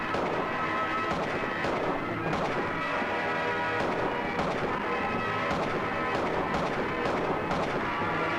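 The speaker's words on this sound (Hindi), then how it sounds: "ये दोनों क्या बॉट हैं? सामने सामने फायर कर रहे हैं, फिर भी एक दूसरे को गोलियां नहीं लग रही हैं।" Two bots in a shooting video game fire at each other face to face, producing a continuous, dense barrage of loud rapid shots and booms with no pause.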